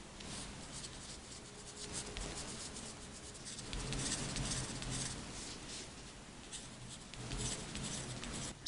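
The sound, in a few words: writing in a table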